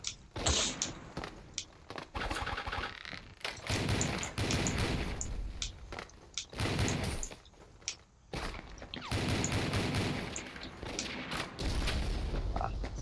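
Gunfire in the Avatar Star video game: repeated sharp shots and thuds come in clustered bursts over a dense layer of game effects and music, loud throughout with brief quieter gaps.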